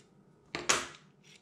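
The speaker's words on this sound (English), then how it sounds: "and undo the nut" A 10mm wrench clicks twice against a nut on an air rifle being undone, two quick close metallic taps followed by a faint scrape, in a quiet room.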